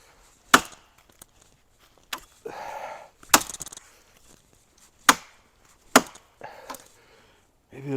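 Sharp woody chops from a cheap machete striking a green, downed tree trunk, about half a dozen irregular close impacts with splintering rustle between blows, no talking.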